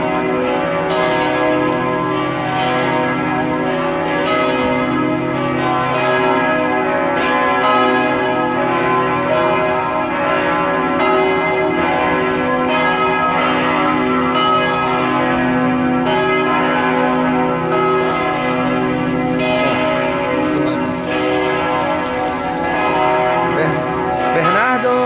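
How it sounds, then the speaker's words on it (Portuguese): The bells of Notre-Dame Basilica in Montreal ring at noon, a dense, continuous peal of overlapping tolls with rich sustained overtones heard steadily outdoors for the whole stretch. "Batendo sino aí, ó."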